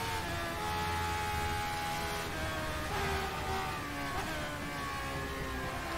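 Engine of a McLaren F1 race car driven in rFactor 2 without driver aids, a steady high-pitched drone with rising and falling revs through gear changes, loud and continuous with no talk.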